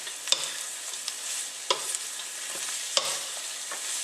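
Green beans sauté over high heat in a hot pan, a steady close sizzle punctuated by three or four sharp metallic clicks and scrapes of stirring, with no talk.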